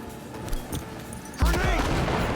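Gunfire in Cyberpunk 2077 combat: a few sharp shots early, then a loud burst of rapid firing with booming impacts that keeps going, dense and close.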